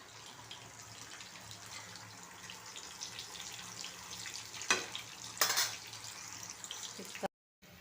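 Garlic, cumin, mustard seeds and onion fry in a pan for a bitter gourd dish, a faint, steady sizzle with a couple of sharper crackling bursts near the end.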